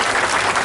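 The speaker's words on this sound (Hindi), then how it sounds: "एक बार ताली बजाया जाए" A protest crowd at a farmers' tractor rally in Nagda, demanding a soybean price of 6000 per quintal, bursts into applause: a dense, loud wash of many hands clapping at once, heard briefly.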